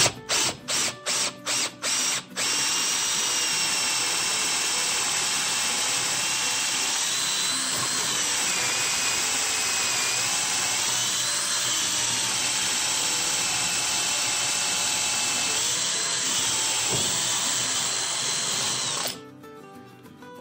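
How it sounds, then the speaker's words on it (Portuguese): A cordless drill runs steadily and loudly at close range, boring a hole in brick after a few short trigger bursts, then stops near the end. "vou fazer mais um furo aqui"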